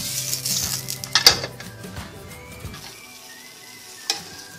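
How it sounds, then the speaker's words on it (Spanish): Tomato, onion and garlic roasting on a comal, with a steady close crackle and sizzle, some scraping clinks near the start and a single sharp knock later, fading toward a quieter hiss. "En comal asamos el jitomate."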